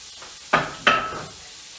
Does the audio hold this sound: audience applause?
no